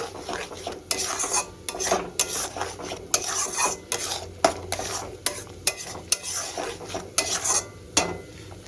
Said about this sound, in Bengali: টমেটোটা ভালো করে কষিয়ে